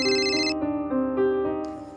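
A phone ringtone plays a repeating melodic tone pattern, loud and close, with no talking.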